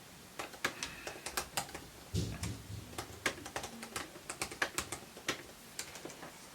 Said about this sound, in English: I need to type this for a second because I got to think about this later.